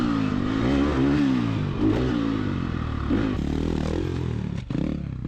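An enduro motorcycle engine revs hard in first gear while climbing a rock jump on rough desert terrain. The loud, close engine note rises and falls with clattering and scraping from the bike, then drops off briefly near the end.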